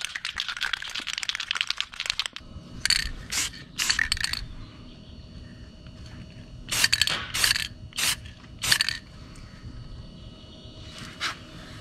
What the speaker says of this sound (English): I'm going to shake this up and we'll spray it